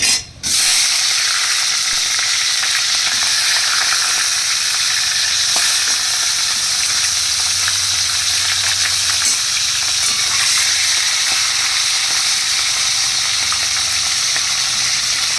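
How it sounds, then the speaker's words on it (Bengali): Hilsa fish heads hit hot oil already seasoned with cumin, nigella, dried chilli and a bay leaf, setting off a loud, steady sizzle that holds close and continuous for the whole stretch with no talking. "এবার দিয়ে দেবো এর মধ্যে মাছের মাথাগুলো।"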